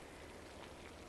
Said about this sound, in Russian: Дождь снова.